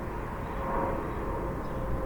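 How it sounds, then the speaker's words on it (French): A single airplane passes overhead above the Villeray neighbourhood, a steady, continuous broadband engine roar filling the whole stretch at moderate level with no break and no voices. "Vous entendez? Un autre avion."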